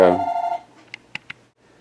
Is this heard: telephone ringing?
yes